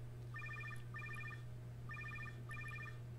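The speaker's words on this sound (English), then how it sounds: "Wait, I'm getting a phone call." In-game phone ringing in Fortnite Save the World, a faint electronic trill sounding in four short bursts over a steady low hum.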